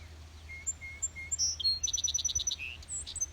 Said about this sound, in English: They sound like blackbirds.